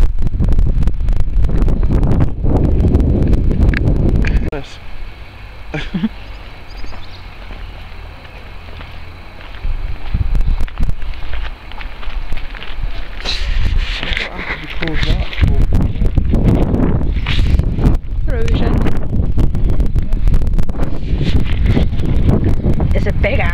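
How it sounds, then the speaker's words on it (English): Strong gusts batter the microphone at Raglan Castle in Wales, a loud, continuous roar that eases briefly and then surges back. A person talks through part of it. "Very windy, but this is Wales, so what to expect."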